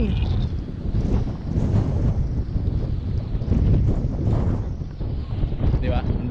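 Strong wind buffets the microphone outdoors among coconut trees in Australia in a steady, loud roar with low rumbling gusts throughout, and a voice speaks briefly under it.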